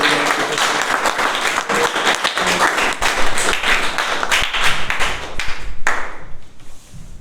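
An audience at a Toastmasters meeting applauds an icebreaker speech with sustained, dense clapping that carries on for several seconds before tapering off.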